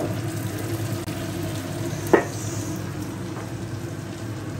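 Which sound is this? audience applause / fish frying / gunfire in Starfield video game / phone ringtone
fish frying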